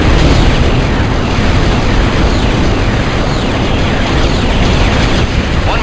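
A mortar barrage pounds without letup in the PS2 game Star Wars The Clone Wars, with loud, overlapping explosions merging into a dense, continuous roar throughout.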